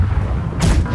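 Cannon fire aboard a ship in the video game Blackwake, a low rumbling boom followed by a sharp blast about halfway through the one-second burst.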